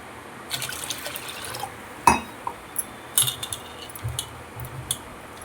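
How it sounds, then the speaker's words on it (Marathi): Mixed mung and toor dal being rinsed with water in a kitchen, quiet splashes and trickles with small knocks and clinks at irregular intervals, soft and close, with no talking. "याच्यामध्ये पाणी टाकून छान धुवून घेते."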